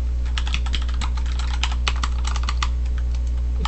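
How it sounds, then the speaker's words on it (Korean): Fast, steady typing on a mechanical keyboard gives crisp, close clicks under a constant low hum, with no voices. "기계식 키보드죠."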